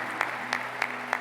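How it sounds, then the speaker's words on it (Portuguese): Church congregation applauds at Mass after the Gospel reading: faint, distant clapping under a steady hum, with soft regular claps about every third of a second. "Vamos aplaudir o Santo Evangelho aqui proclamado."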